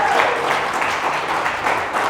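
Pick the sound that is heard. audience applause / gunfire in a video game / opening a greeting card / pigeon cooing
audience applause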